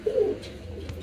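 A female pigeon on a farm gives a short, male-like coo, close and clear, with a deep throaty swell at the start and a faint trailing murmur.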